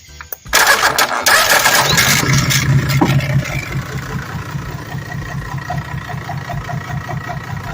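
A Yanmar diesel engine cranks briefly, catches with a loud burst, then settles into a steady, rattling idle close by.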